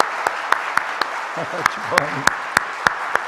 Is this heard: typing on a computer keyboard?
no